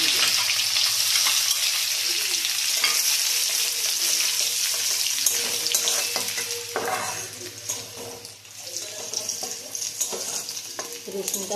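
Chopped garlic and carom seeds fry in hot oil with a steady, close sizzle and crackle, occasional stirring scrapes breaking through, no talking.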